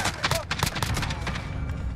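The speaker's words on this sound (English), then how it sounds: "now that we're in game with our Fostech Origin 12 SBV, or a short barrel variant, let's see how this thing handles" Rapid blasts from a Fostech Origin-12 SBV short-barrel drum-fed shotgun in Call of Duty Modern Warfare, a fast string of close, punchy shots with little pause between them.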